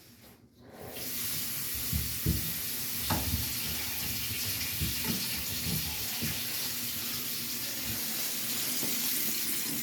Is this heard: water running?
yes